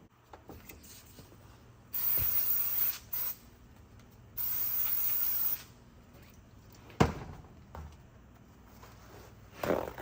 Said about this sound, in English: I'm just gonna give it another spray over